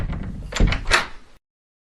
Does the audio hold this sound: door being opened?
yes